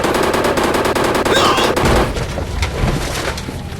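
A minigun in the Indian Bikes Driving 3D video game fires a loud, unbroken rapid stream of shots for about two seconds. Scattered gunfire and booming blasts follow.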